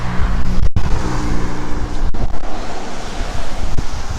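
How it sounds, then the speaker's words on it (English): Heavy road traffic roars past close by, a dense, continuous rush of vehicles with loud buffeting wind noise and brief dropouts. "Wow, oh, so much traffic today here."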